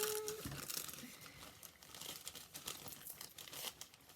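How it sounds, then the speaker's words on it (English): Quiet, close crinkling and rustling come from craft supplies being handled, with a soft scattering of irregular crackles throughout. "Sorry about the rustling and the jangling"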